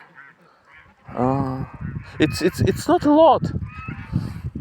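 Geese honk loudly in a noisy flock, overlapping harsh calls close by, with a person speaking briefly over them.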